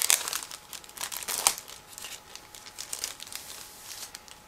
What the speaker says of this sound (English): It's a resealable plastic bag, but it's a bit tricky to open.